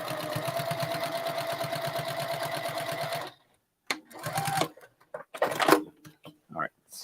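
A sewing machine runs steadily for about three seconds while stitching binding, a close rhythmic whir, then stops and a voice talks over light handling sounds.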